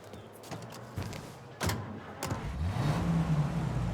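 A car engine in the game Mafia: Definitive Edition rumbles close by, then rises into a steady revving drone as the car pulls away.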